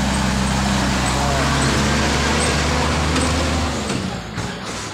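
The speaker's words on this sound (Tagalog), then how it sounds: "Buhol-buhol na naman ang trapiko dyan." Heavy traffic on the Maharlika Highway, a constant close roar of engines with deep rumbling from buses and trucks that eases toward the end, with faint talk.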